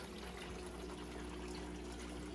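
An aquarium power head pump pushes water through a sump feeding several fish tanks, producing a faint, steady watery rush and trickle with a low hum underneath, continuous and close.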